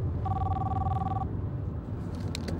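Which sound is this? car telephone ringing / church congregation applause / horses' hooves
car telephone ringing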